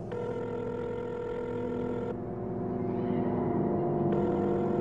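A mobile phone rings close by with a bright electronic ringtone that pauses briefly and then starts again, with no one speaking.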